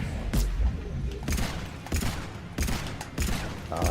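In Mass Effect 3, a Carnifex heavy pistol fires several loud, punchy shots, evenly spaced about a second apart, each with a booming low thump and a short echoing tail.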